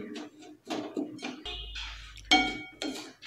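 A sugar and semolina mixture for modak is stirred in a pan over a low gas flame, giving repeated rhythmic scraping strokes with an occasional metallic clink.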